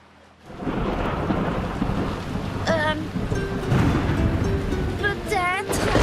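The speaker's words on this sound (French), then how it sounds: "Mais est-ce que c'est une tempête juste là?" Thunderstorm with steady heavy rain and rolling thunder, heard in a children's cartoon boat scene, loud and continuous, with brief squeaky character voices and chirps over it.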